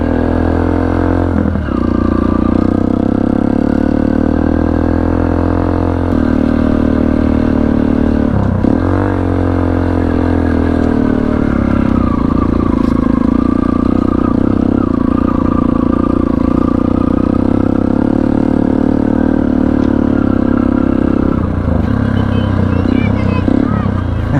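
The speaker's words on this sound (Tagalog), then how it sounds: "basic ang road crossing dito sa motor na to" A Honda CB500X motorcycle crosses a road, its engine droning close and loud with steady low rumble, shifts in pitch and some clattering, under wind noise throughout.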